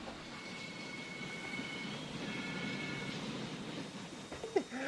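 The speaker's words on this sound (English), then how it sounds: "Last train of the day." A passenger train rolling past at a distance, a steady low rumble of wheels on rails with faint squeals and a sharper clank near the end, with no talking.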